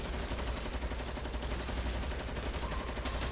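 Continuous gunfire in Fortnite, with rapid shots rattling in dense bursts over a busy, noisy game background.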